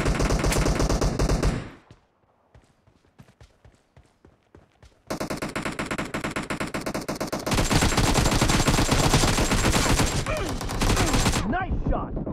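PUBG video game gunfire: dense bursts of automatic weapon fire, loud and close, broken by a sparse stretch of single shots before long sustained volleys resume.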